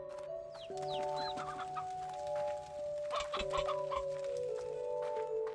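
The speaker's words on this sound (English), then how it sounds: "Chickens in this one." Chickens in the Slime Rancher video game cluck and chatter steadily, clear and close, over a sustained in-game music tone with no talk.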